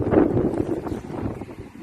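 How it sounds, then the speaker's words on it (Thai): Wind blows outdoors at a home kitchen setting, buffeting the microphone with low rumbling gusts that fade toward the end, no speech heard. "โอ้ยลมพัด"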